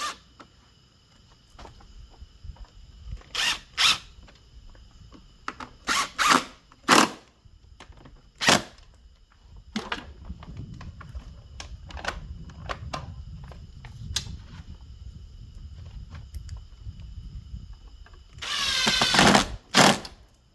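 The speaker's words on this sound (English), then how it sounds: "Then reinstall the 4 screws that hold the transmission axle in place." Screws being reinstalled to hold the transmission axle on a Toro electric mower, close-up: scattered sharp taps and clicks, a few short bursts of a powered driver, and a louder whirring run near the end, with no talk.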